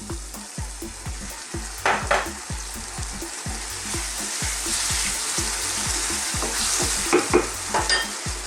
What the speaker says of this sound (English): let's put the rest of our stock in there now